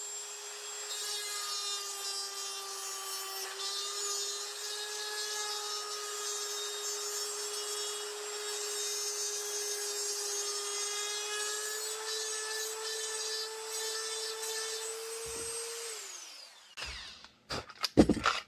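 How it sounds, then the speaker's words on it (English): A Dremel fitted with a mill bit cuts into a clamped gun holster, giving a steady high whine with a rasping grind that dips briefly in pitch partway through. The tool spins down, then a few clatters follow. "Take a Dremel with this mill bit and go to town."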